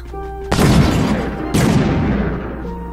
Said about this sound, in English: Explosions right off the bat.